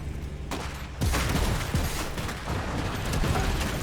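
Gunfire in the video game Iron Harvest cracks out in dense bursts after a short lull, a loud, ragged volley of overlapping shots and booms.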